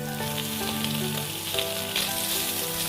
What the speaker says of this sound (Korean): 고기에서 기름이 나오도록 익혀줄게요